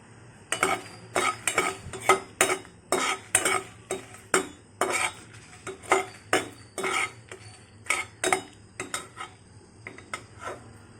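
Red chilies being stirred in a pan for a methi rasam, heard as a steady run of sharp metallic scrapes and clinks of a spoon against the pan, repeating about twice a second with a faint sizzle underneath.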